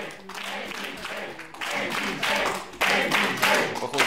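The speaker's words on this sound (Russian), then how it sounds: "Они отвечают ему тем же аплодисментами" A crowd applauds a fighter after a match, a dense, continuous round of clapping that swells in waves and grows louder toward the end, with a faint murmur of voices beneath.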